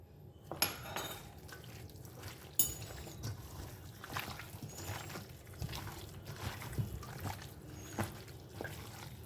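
Chicken and potatoes are mixed with spices by hand for an oil-free chicken curry. The close, quiet, wet squishing comes with occasional soft clinks and taps, and no one speaks.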